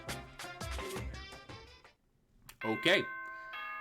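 An electronic doorbell-style chime from the Danganronpa video game rings out in clear sustained tones, signalling a morning announcement; a person talks just before it.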